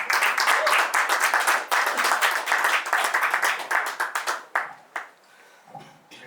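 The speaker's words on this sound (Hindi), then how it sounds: "जोरदार तालियों से बुलाइए जयदीप" A poetry gathering audience claps loudly to welcome poet Jaydeep Soni on stage, dense sustained applause that thins out into a few scattered claps near the end.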